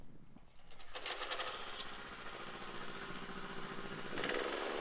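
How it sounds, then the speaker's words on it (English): Power trowel finishing a concrete garage floor, a steady close motor drone with a constant mechanical whir and hum that holds throughout without talk. "I got the power trowel up on the garage floor now,"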